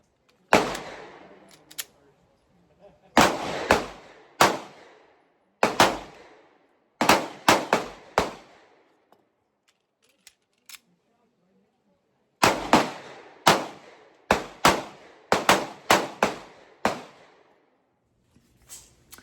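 SCCY CPX-1 9mm pistol fired outdoors in quick double taps, sharp loud cracks arriving in pairs and short bursts separated by pauses, each with a brief decaying echo.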